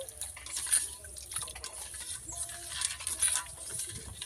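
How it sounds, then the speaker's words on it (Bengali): Sugar being stirred into a raw mango and bael drink, with light clinks of a spoon and liquid swirling against the glass in an uneven rhythm, close and fairly soft. "চিনি দিয়ে চিনিটা ভালো করে ঘেটে গলিয়ে নিতে হবে।"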